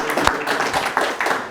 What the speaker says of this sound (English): Give them a round of applause for all the unbelievable work they do